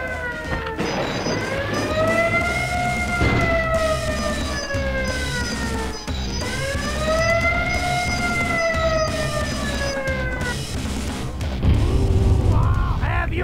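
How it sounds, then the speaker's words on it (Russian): Video game sirens wail loudly in two long rising and falling sweeps, steady throughout with a burst of other game noise near the end. "Вырубите сирены, слишком громкие."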